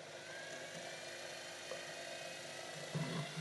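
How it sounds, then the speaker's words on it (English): A small high-speed drill whines steadily and quietly throughout while drilling through silver, with a slight bump in pitch near the end. "You just let the drill bit do its thing."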